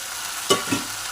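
Malabar spinach being stirred into a hilsa fish head curry in a pan, two brief close scraping stirs with a light sizzle underneath, no talking.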